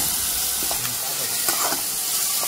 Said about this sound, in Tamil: இது வந்து நல்லா வதக்கணும்.